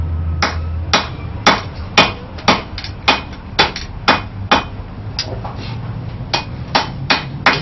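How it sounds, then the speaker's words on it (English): Hot metal is hammered flat on an anvil while a knife handle is thinned out during forging. The sharp, ringing blows come steadily, roughly two per second, loud and close, with no talk over them. "Right now I'm just thinning out the metal to make a little handle."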